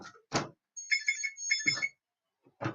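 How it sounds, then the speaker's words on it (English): A phone ringtone chimes in short, bright bursts of repeated electronic tones, cut between moments of nearby talking. "Tintinnabulation, sound of ringing bells"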